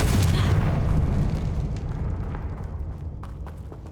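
Confringo fire spell explosion in the video game Hogwarts Legacy, a loud booming burst with heavy low rumble that slowly decays over a few seconds, with faint crackling debris toward the end.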